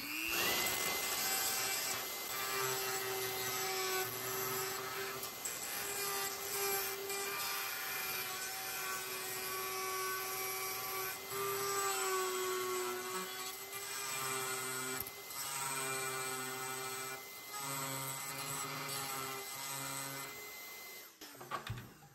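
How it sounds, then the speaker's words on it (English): A Dremel rotary tool grinds material off a part for a car build in a continuous high-pitched whine with slight pitch wavering, running close and loud throughout, with a vacuum running nearby. "So what I've been doing is I've been taking my Dremel, and Marley's been holding a vacuum here."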